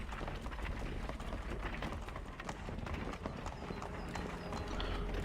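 Steady clip-clop of horse hooves pulling a cart in Assassin's Creed 3, a brisk rhythmic trot heard up close and continuous, with low rolling rumble underneath and no talking.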